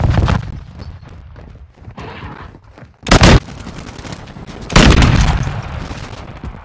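Sniper rifle shots ring out in a Call of Duty Modern Warfare 2 Ground War match, with a sharp loud blast near the middle and another burst of gunfire a little later over background game noise.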